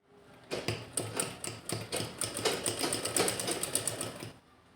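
A sewing machine stitches the side seams of a dress top, starting with a few separate bursts and then running in a steady, rapid mechanical chatter before stopping, close and clear with no talking.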